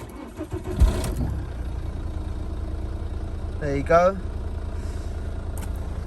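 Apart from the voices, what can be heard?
Ford Focus 1.6 diesel engine starting and idling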